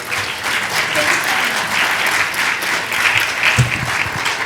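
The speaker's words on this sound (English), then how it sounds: "So while you're clapping, we're going to have a little more clapping to do." Audience applause fills a room at the close of a plastic pollution prevention summit, a dense, steady clapping crowd at close range that holds for several seconds with faint talk underneath.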